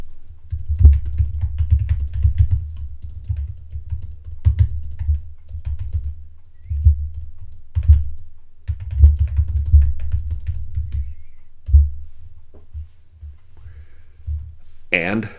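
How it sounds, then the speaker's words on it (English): Rapid clicking of computer keyboard keys in irregular bursts, close and fairly loud, with short pauses between runs of typing and no talking. "Let me type that in here"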